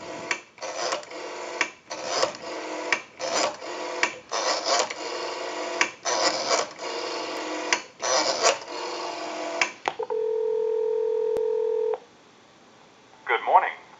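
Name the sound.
dialing a call on a Western Electric 554 rotary telephone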